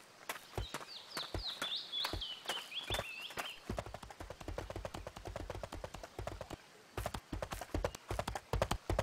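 Horse mount hooves in the Albion Online video game clip-clop in a steady walking rhythm, close and clear, with a short bird-like chirp early on and no talk.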